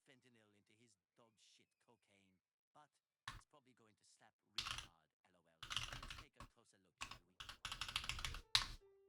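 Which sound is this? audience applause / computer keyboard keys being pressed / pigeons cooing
computer keyboard keys being pressed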